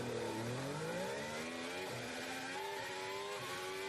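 Formula 1 car engine held in first gear at the race launch, a loud, high-pitched whine rising and wavering as the throttle is modulated, close and continuous.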